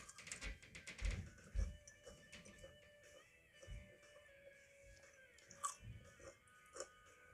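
Close, crunchy chewing of Burger King cheesy tots, tater tots with cheese inside, with irregular soft bites and mouth sounds and no talking.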